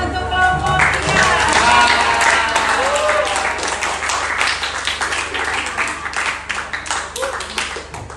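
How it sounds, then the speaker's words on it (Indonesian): An audience applauds a student group at a school presentation, lively clapping at close range that swells early and then tapers with scattered individual claps. "Kami tepuk tangan untuk kelompok 3."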